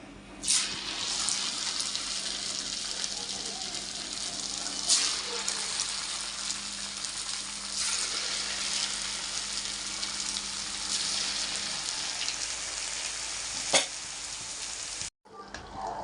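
Poha murukulu fry in hot oil, giving a continuous bubbling sizzle at an even level with a few louder pops, then a brief break near the end.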